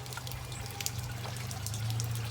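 Water from a garden hose flushed through a Jeep heater core drains out of the radiator petcock in a steady, soft trickle close by, with a low hum underneath and no talking.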